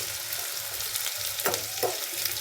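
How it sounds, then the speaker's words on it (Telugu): Onions and fresh curry leaves frying in oil with a steady close sizzle, broken by two louder scraping stirs near the end; no one speaks. "ఉల్లిపాయలు ఎర్రబడేదాకా వేయించుకున్నాము"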